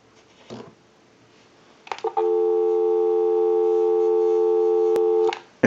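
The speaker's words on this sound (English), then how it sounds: "We'll go ahead and give you some dial tone." A brief click is followed by a steady, loud dial tone from an Automatic Electric three-slot payphone that holds unbroken for several seconds before a clunk cuts it off.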